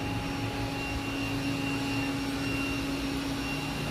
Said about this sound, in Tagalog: Galing ni robot vacuum.